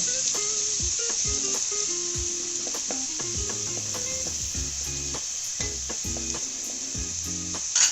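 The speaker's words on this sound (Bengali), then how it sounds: "কুচি পেঁয়াজগুলো দিয়ে দেব।" Chopped onions hiss in hot oil while a spatula stirs them, bringing a constant close sizzle with irregular scraping and knocking strokes against the pan, no talking.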